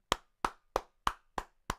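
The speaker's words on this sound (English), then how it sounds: "getting a rapturous applause with a big smile on his face" Six slow, evenly spaced single handclaps, close and fairly faint, rather than a crowd's applause for Liverpool footballer Cody Gakpo at a PSV vs Liverpool match.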